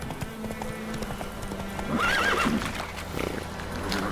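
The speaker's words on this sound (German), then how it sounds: "Ah, kann das Pferdchen nicht schwimmen." A horse in The Witcher 3 video game, hooves clip-clopping steadily with a shrill neigh breaking in midway, moderately near over a quiet background.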